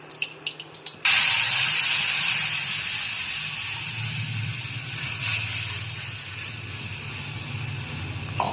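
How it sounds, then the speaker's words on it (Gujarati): After a few soft clicks, a loud sudden sizzle erupts as cumin and mustard seeds hit hot oil for tempering, then hisses steadily and gradually fades a little. "મેથી શાકનો વઘાર થાય છે"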